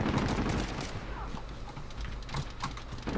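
Call of Duty gunfire crackles in rapid, overlapping bursts, a dense fusillade filling the mix at moderate level with a faint background voice at times.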